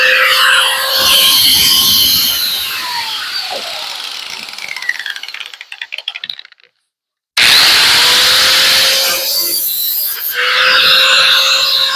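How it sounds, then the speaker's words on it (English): A mini grinder whines loudly and continuously at close range while working on a patched car body, cutting out briefly to silence before spinning back up to a steady high-pitched scream. "The mini grinder action for you people."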